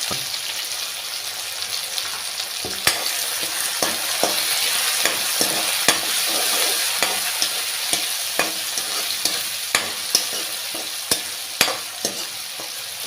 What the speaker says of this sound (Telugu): తర్వాత కట్ చేసి పెట్టుకున్న 2 ఉల్లిపాయలు, ఉల్లిపాయలు వేసుకొని ఫ్రై చేసుకోవాలి